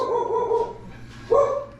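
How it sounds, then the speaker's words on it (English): A dog barks a couple of times, sharp and fairly close, with a short pause between the yelps. "You can hear my dog over there barking,"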